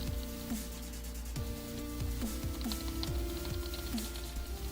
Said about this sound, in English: Sorry if you can hear my keyboard in the background too.